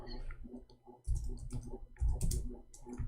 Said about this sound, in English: We are typing in English, hold on.